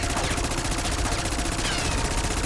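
Rapid gunfire from a charged weapon shot in a Call of Duty zombies video game, a dense, loud burst of repeated shots in quick rhythm, continuous throughout without talk.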